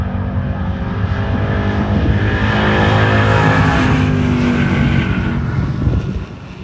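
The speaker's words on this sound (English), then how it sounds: "Charles Edwards in the 1985 Camaro left side." A 1985 Camaro race car at a drag race roars loud and close, its engine note rising steadily under hard acceleration, then dropping off at the end.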